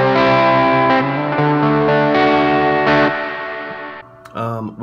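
Distorted crunch-channel guitar through a Donner Black Devil pedal, a Peavey 6505 clone, with reverb added, playing sustained chords loud and close for four seconds before a short pause and a fresh strum.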